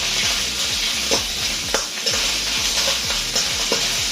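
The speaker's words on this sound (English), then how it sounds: "So we're going to get a bit of colour on this, move it around a bit so it doesn't burn." Pork sizzling loudly in a hot pan for Szechuan pork, steady frying hiss broken by repeated scraping and stirring strokes at a regular rhythm, close and without talk.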